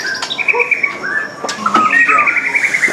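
A white-rumped shama (murai batu) sings a loud, clear run of varied whistled phrases and trills, close by, with brief chirps between phrases.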